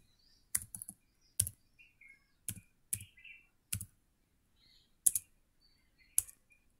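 Student names are typed on a computer keyboard in short bursts of close, crisp key clicks separated by pauses, with no talking.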